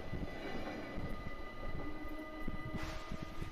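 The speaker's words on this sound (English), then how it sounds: "a passenger train derailed just outside Hilversum station" An animated passenger train near Hilversum station rumbles along the rails with a steady rolling drone and irregular clunks and knocks from the wheels, with a brief hiss near the end.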